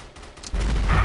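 Gunfire in the shooter video game Blood Strike: a sudden loud burst of rapid shots erupts halfway through and keeps going to the end.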